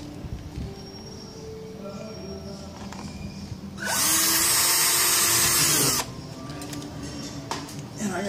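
A power drill whines loudly for about two seconds drilling a hole in an aircraft cowling for nut plates, then winds down, with quieter workshop clatter and faint handling noises before and after.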